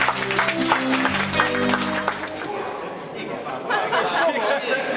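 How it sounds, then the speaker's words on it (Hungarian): Applause from wedding guests at the host's request, spreading over crowd chatter and some laughter, steady and fairly loud throughout the hall. "Nagyon tapsot, kérlek."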